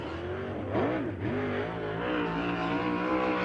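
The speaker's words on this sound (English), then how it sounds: "nice sharp sound of that car getting down into turn number 1 and 2" A USAC race car from Blue Motorsports, driven by Robert Ballou, snarls with a sharp, raspy engine note as it dives into turns one and two. The pitch bends and wavers, then settles into a sustained loud drone.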